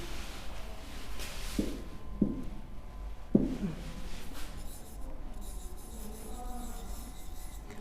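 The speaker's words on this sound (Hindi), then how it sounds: "मैं फिर से इसको लिख देती हूँ" Chalk or marker strokes on a classroom board during an English lesson, a few short scraping marks with light taps, faint and close, over a hum of room noise.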